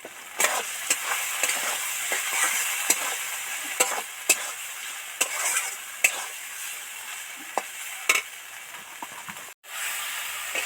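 Spice masala with mustard and poppy seed paste fries in a pan for prawn malai curry, giving a constant close sizzle and hiss with repeated sharp scrapes and taps of a spoon stirring at an uneven rhythm.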